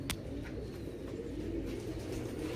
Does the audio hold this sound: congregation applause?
no